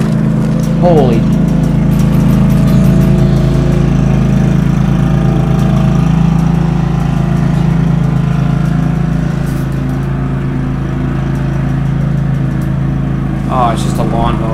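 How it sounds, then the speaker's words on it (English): Lawn mower engine in the video game Defiance, a steady droning hum that runs loud and continuous throughout, with game sounds and voices layered over it. "Oh, it's just a lawnmower."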